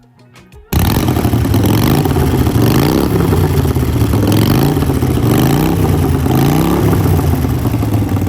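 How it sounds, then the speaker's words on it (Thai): A 2019 Harley-Davidson Iron 883 motorcycle engine fires up after a brief quiet moment, then runs loudly and close, with several rising revs over a steady idle. "มาฟังเสียงเครื่องยนต์กันนะครับ"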